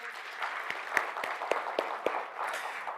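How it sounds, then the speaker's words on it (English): A small conference audience claps in sparse, uneven applause, with a few sharper individual claps standing out, fading after a few seconds. "Can we please give him a round of applause?"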